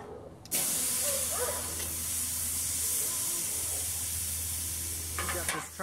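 Tri-tip roast searing on the cast iron grate of a Weber kettle grill, a steady loud sizzle and hiss that starts abruptly as the meat goes down and holds evenly for several seconds.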